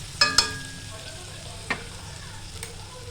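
Tomatoes go into a hot frying pan for pav bhaji, giving a quiet, steady sizzle broken by a few sharp metallic clinks and scrapes of a spoon against the pan.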